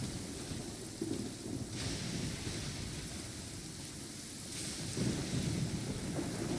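Steady rain pours in a thunderstorm in the video game Genshin Impact, with low rolling rumbles of thunder swelling twice, a continuous moderate wash with no talking.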